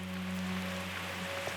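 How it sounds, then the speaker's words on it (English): Torrential rain pours steadily on a tropical island, a dense, even hiss of falling water with a faint low hum underneath, continuous and unbroken with no voices. "Overnight, torrential rain has once again battered the island."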